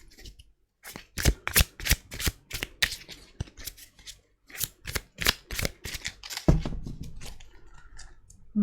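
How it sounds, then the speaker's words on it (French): Tarot cards are shuffled in crisp, rapid bursts of riffling and flicking, close and fairly loud, with short pauses between rounds and a softer handling thump near the end. "Alors je vais faire le tirage en 3 cartes."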